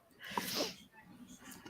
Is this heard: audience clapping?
no